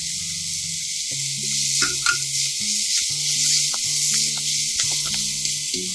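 Garlic sautéing in a pan with turmeric powder for a fenugreek and bottle gourd soup, a steady bright sizzle with soft stirring taps and scrapes, punctuated by a few brief hums.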